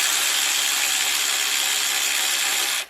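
A hand ratchet tightening rod cap bolts on an LS engine bottom end during a rebuild, giving a steady, loud, continuous clicking whir close up that runs for nearly three seconds and then stops abruptly.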